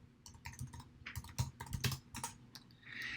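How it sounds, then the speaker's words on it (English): Keys clatter on a computer keyboard while a spreadsheet worksheet is filled in, a quick irregular run of close taps with brief pauses, and a soft steady hum underneath toward the end. "I'm going to type in adjustments."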